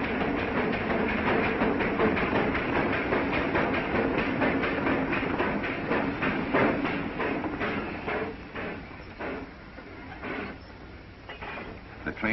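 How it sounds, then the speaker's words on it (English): A steam train rumbles steadily through a tunnel with rhythmic clicking and clattering that gradually slows and quiets to a stop, its roar enclosed and echoing. "The train came to a stop with the passenger coach still inside the tunnel."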